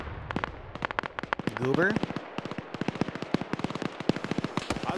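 Rapid sharp shots from soldiers' regular guns in a military video game, firing in dense repeated bursts for the whole stretch, close and loud, with voices talking over them.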